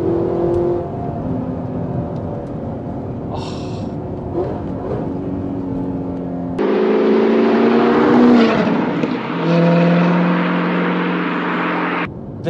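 An Aston Martin DB9 V12 or Audi R8 V8 sports car engine revving hard through third gear, a loud sustained harmonic drone that climbs steadily, with a sharper, louder surge partway through as revs rise further.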